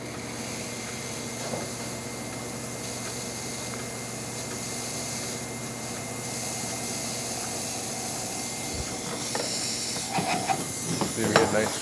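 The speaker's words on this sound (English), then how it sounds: "See, we get a nice strong steam." A Quickmill Mod 0820 espresso machine's steam wand hisses strongly and steadily, a loud continuous rush that grows a little rougher and gurgly near the end.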